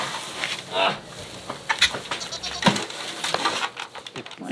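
Goats at an animal sanctuary bleat in several short, close calls amid scraping and clattering from dung being cleared, with a voice speaking briefly among them.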